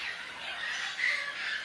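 A flock of parrots squawks in the mountains of Belize, a dense, continuous chorus of shrill calls carrying from the surrounding bush without any break.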